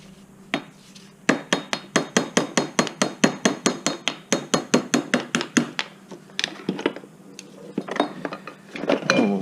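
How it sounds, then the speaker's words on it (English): Rapid metallic hammering or tapping while a rear hub bearing is pried out of a Chevy Spark, a quick run of about two dozen sharp, close strikes, then a few scattered knocks and scraping. "We got an area we can start prying this out a little bit"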